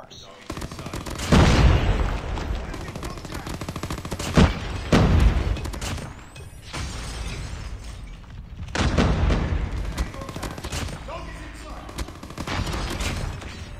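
A PPSh submachine gun fires in Call of Duty Mobile, loud close bursts of rapid automatic fire in several strings separated by short pauses, with someone talking between and over the shooting.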